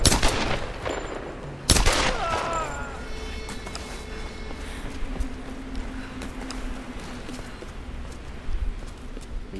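Gunfire in the video game Tomb Raider 2013: a loud shot early on, then bursts of shots and impacts over scattered footsteps and game ambience, with some quieter crackling later.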